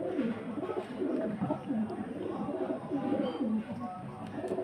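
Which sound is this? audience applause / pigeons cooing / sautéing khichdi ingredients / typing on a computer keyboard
pigeons cooing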